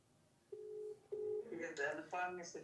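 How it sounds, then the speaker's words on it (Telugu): A telephone call placed to a minister's phone, with two steady ringing tones on the line followed by a voice speaking over the connection. "మంత్రి అడ్లూరి లక్ష్మణ్ కుమార్ గారికి ఒక్కసారి ఫోన్ చేద్దాం."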